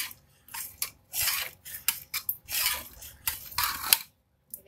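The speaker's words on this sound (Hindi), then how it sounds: "आप चाहें तो इसी चम्मच से ही इसको मैश कर लें अच्छे से।" A metal spoon scrapes and clinks against a pot in irregular bursts, mashing cooked moong lentils with short pauses between strokes.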